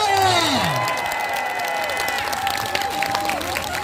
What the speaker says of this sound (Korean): 윤관석 국회의원에게 다시 한번 뜨거운 박수를 부탁드립니다